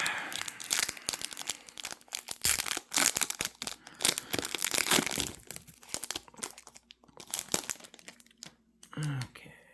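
Foil wrapper of a hockey trading card pack being torn open, with continuous close crinkling and ripping bursts throughout and a brief voice at the end.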